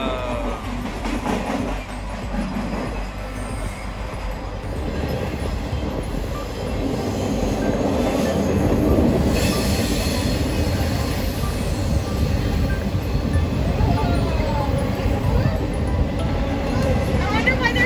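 Freight train rolling steadily past close by, its cars each carrying a single trailer rather than double stacks, with continuous rumbling wheels, rail clatter and occasional squeals, and people talking over it.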